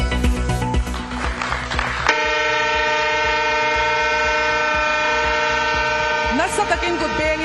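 Mizoram's new Rajdhani Express, on the opening run of the state's first rail line, clatters along before blowing a long, sustained horn, with brief extra noise near the end.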